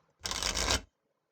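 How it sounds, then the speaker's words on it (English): A single quick riffle shuffle of a card deck, one dense, crisp burst of fluttering card edges lasting about half a second, close and clear, then silence. "Shuffle deck."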